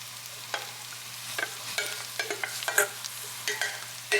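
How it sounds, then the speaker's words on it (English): Day-old rice for egg fried rice is stirred in a frying pan with a spatula, which scrapes and taps in irregular bursts over a low sizzle, close and clear with no speech. "So now what we want is to stir everything in, break up any clumps of rice."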